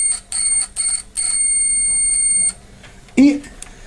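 A shrill electronic multimeter continuity beep sounds up close while testing a PC power supply cable: a few quick chirps, then a steady tone held for over a second before cutting off.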